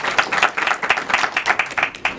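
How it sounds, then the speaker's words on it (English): An audience claps together in applause at a talk held at the Martin Luther King, Jr. National Historic Site, a dense, fairly close patter of many hands lasting a couple of seconds. "Please give Deborah a round of applause"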